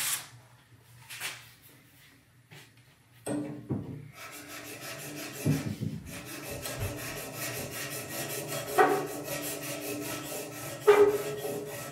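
A plane blade being sharpened on a 1000 grit whetstone gives steady rasping, rubbing strokes that run close and fairly loud, following a few quieter scrapes at the start.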